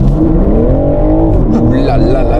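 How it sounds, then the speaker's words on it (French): A 510-horsepower BMW M4 Competition accelerating hard from 0 to 100 km/h: a loud, close engine roar climbing in pitch, dipping at one quick gear change and then rising again. "je vais devoir vous faire une deuxième accélération"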